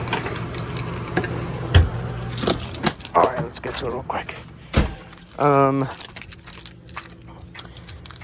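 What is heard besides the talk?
keys jangling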